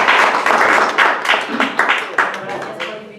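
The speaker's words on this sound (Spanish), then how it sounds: "Un aplauso a los dos." An audience applauds at a round-table discussion on the foundations of democracy, a dense run of hand claps over a few seconds, close and fairly loud, with no talking.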